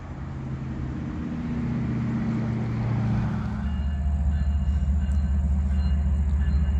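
Heavy Union Pacific diesel freight locomotives rumble and drone as they slowly start on an upgrade, a deep engine throb growing steadily louder and closer with a low mechanical hum.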